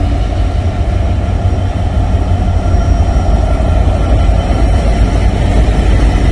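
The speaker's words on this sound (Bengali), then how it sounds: "এই যে এই পাশে আরেকটা ট্রেন, এই যে এই ট্রেনটা নিমতলা" Loud, steady rumble of a passenger train rolling along the tracks at Nimtola railway station, Bangladesh, a continuous heavy roar with no voices.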